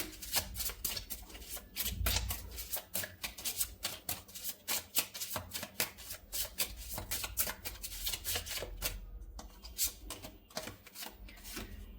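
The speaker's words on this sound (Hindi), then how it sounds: "3 कार्ड्स निकालूंगी मैं यहां से।" Tarot cards are handled and drawn from the deck in a long run of rapid, crisp slaps and riffles, close and dry, with no talking.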